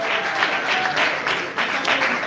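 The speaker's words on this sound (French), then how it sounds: "Est-ce qu'on peut applaudir bien fort?" Audience at a comedy awards show breaks into steady, dense applause, a continuous wash of many hands clapping close by with no pauses.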